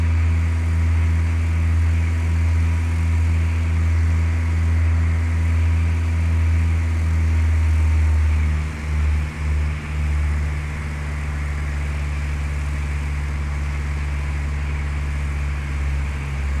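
Simulated propeller aircraft engine in Flight Simulator 2004, throttled back to about 2100 RPM: a steady, loud low droning hum holds throughout, with a slight dip and wobble in pitch partway as the power eases.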